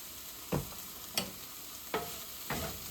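Food being stirred in a pan with onion powder just added, four separate scraping strokes spaced roughly half a second apart over a faint steady sizzle, close by with no talking.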